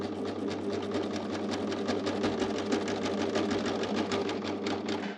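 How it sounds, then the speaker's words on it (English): An Amber Air S 600 overlocker runs a chain stitch and trims fabric, giving a loud, fast, steady mechanical whir with rapid rhythmic needle clatter, close up and uninterrupted, no talking. "So press foot's down, fabric's in, I've started my chain stitch"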